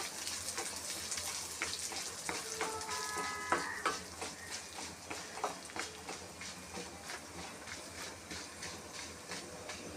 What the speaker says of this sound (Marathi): याच्यामध्येच मी वाईट उडदाची डाळ टाकणार आहे हे पण छानपैकी भाजून घेणार आहे